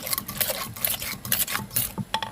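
A utensil stirs and scrapes food in a pan, with seasoning powder being mixed in at a Thai made-to-order food stall, giving a busy run of close metallic clinks and scrapes with no talking.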